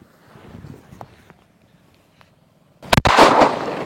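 A small palm-leaf firecracker, an olai vedi, bursts outdoors with a loud, sharp double crack and then a sustained hissing roar, after a few seconds of quiet background.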